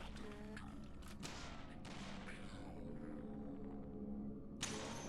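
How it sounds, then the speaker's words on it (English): Zombies fire guns in a video game, sounding as a few faint, sharp cracks spaced a second or so apart, with one more shot near the end, over a low, steady rumble. "The zombies are doing their shoot practices."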